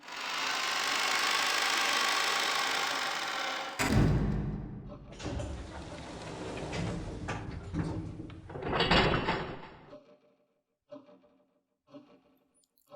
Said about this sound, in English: When the door was closed, it automatically made a clunk